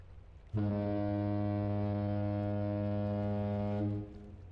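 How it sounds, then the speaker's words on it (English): A ship's deep foghorn blast in the video game The Great Ace Attorney 2, one long steady low honk lasting about three seconds, loud and alone, cutting off cleanly. "Honk. Thank you, ship."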